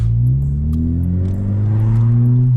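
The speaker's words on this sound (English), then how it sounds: "the revs are just hanging instead of dropping like they're supposed to" A 10th-generation Honda Civic engine runs loud and close, its revs rising slowly and holding high instead of dropping back, a steady droning rumble with no talk.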